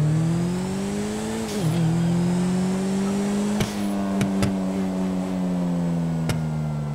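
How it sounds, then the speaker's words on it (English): A steady, droning video game car engine, a Canis Castegator in GTA with an aftermarket exhaust, revs with a slight rise and dip in pitch, punctuated by a few sharp backfire pops, loud and continuous throughout. "So once we change the exhaust, it's actually backfiring."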